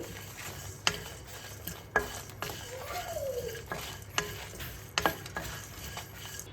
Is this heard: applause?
no